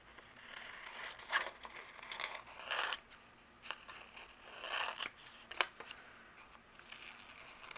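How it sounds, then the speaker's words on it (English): Scissors snip through a piece of cardstock ephemera along a curved edge, a run of quiet, close crisp cuts and small scrapes with brief pauses, no voice over them. "I'm going to use my scissors and follow along the curve of my ephemera"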